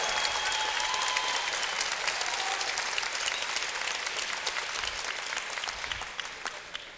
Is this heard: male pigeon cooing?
no